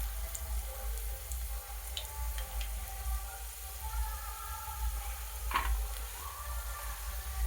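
Ginger and garlic sauté gently in a pan for an aubergine curry, giving a soft, steady sizzle over a low background hum, with a few faint clinks.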